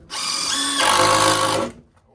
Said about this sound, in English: I got a hole drill.